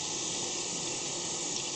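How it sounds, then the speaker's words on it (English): Water being poured into a roasting pan of Cornish hens, a steady close hiss and splash of running liquid that holds evenly throughout with no talking. "add a tiny bit water to the pan"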